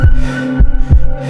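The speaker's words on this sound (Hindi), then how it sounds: "उसका दिल तेजी से धड़क रहा था।" A fast heartbeat effect in a Hindi horror cartoon: three heavy, booming thumps in quick succession over a low, droning hum, loud and up front.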